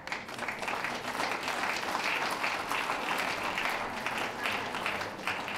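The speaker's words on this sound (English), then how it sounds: "Applause" A crowd at a championship dog show applauds a winning Basenji, producing a loud, continuous wash of clapping that holds steady for several seconds.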